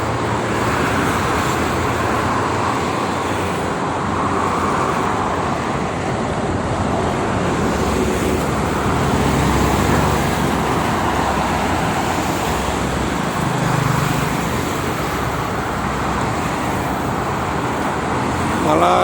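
Traffic streams along the Jakarta–Cikampek toll road in Indonesia, where goods trucks are common: a constant loud roadway roar of passing vehicles, with engine hum swelling and fading as heavy vehicles go by, and faint talk underneath.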